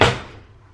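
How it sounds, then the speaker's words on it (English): A washing machine door shuts with one firm thud at the start, followed by a short fading rumble, heard close and alone. "So I just throw that in, then I shut the door"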